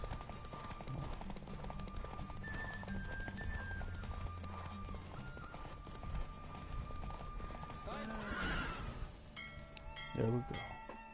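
Hooves clip-clop in a fast, rhythmic gallop in The Witcher 3: Wild Hunt, with a horse snorting and voices talking over the running.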